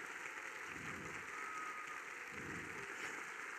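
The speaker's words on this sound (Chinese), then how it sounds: "也请让我们以最热烈的掌声感谢东元集团" A crowd claps steadily, a continuous wash of applause at moderate distance that holds without pause.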